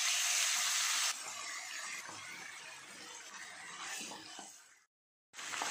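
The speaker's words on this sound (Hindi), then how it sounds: "तेल गर्म हो चुका है, मैरिनेट किया हुआ चिकन डाल दें।" Marinated chicken dropped into hot oil in a pan, a loud burst of bright sizzling that settles into a steady crackling fry, briefly cutting out near the end before the sizzle resumes.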